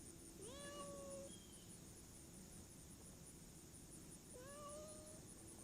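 A sick, hungry cat in Haysville, Indiana gives two plaintive, drawn-out meows a few seconds apart over a steady background hiss.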